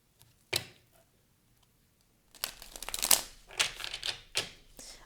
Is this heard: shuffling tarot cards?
yes